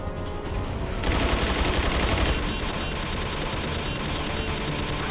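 Sustained rapid gunfire in Resident Evil 4 on PC as turrets are shot down, a dense, loud barrage of shots that swells after the first second and keeps going steadily.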